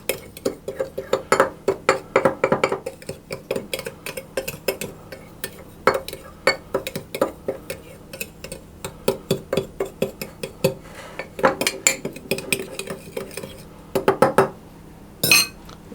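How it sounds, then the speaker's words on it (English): Corn flour being mixed into ingredients in a bowl for a raspberry crumble, heard as repeated close clinks and taps of a utensil against the bowl in an irregular rhythm, with a busier burst near the end. "add in my corn flour, and I'm simply going to mix those together"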